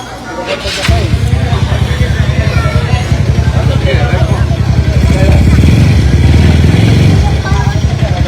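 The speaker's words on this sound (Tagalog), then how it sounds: "may motor ka na may maingay na tambucho" A loud motorcycle with an aftermarket exhaust rumbles steadily with a harsh, throaty exhaust note, revving slightly, while people talk over it nearby.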